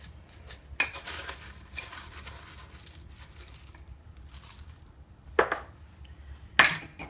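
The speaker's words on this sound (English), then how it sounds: "And then we're going to put in our diced tomatoes." Diced tomatoes go into a beef enchilada dish: a few sharp clinks and scrapes of a utensil against a can or pan stand out against quiet kitchen background.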